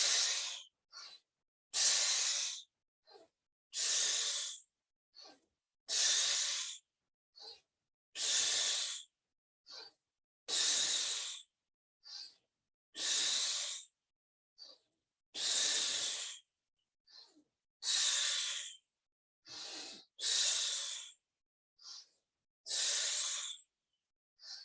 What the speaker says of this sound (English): Together we exhale.